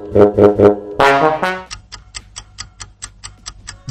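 Strombonin monster from the My Singing Monsters video game: a brief, loud tonal musical burst with rich harmonics, followed by a steady series of light, evenly spaced ticking clicks.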